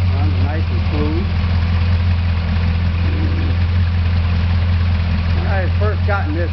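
A 354 Hemi Chrysler V8 fitted with a 340 Chrysler oil pump idles smoothly and steadily, with a deep constant rumble that stays loud and close throughout. Someone talks over it in places.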